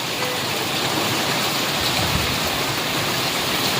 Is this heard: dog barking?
no